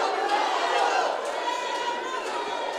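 A crowd at a live boxing match roars continuously near the end of a round. The sound is a broad, steady wash of noise under an announcer's commentary.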